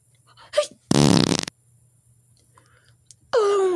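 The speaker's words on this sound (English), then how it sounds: "Ew, guys, stop farting." A loud, buzzy fart bursts out for about half a second among young people in a room, followed by quieter scattered noises and a voice starting at the end.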